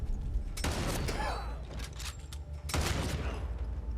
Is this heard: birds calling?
no